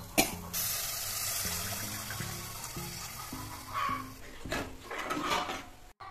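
Tamarind water is poured into a pot of urundai kulambu (lentil dumpling curry) in a home kitchen. It makes soft, splashy watery pours, strongest in a few short bursts, over a low steady tonal background.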